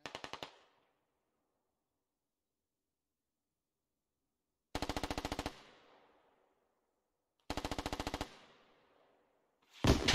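Short, rapid machine-gun bursts of suppressive fire in the military shooter game Squad come three times, each ending in a fading echoing tail, with silence between them and a fourth burst beginning at the very end.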